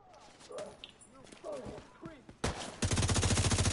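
Rapid gunfire in the video game Division 2, starting with scattered single shots under excited talk, then a loud burst at the end that settles into a steady automatic rattle.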